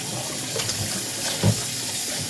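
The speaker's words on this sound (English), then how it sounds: "Take that out, give it a quick nice rinse" Quail being rinsed under a running kitchen tap, a steady broadband water hiss with a brief louder splash near the middle, heard alone without talk.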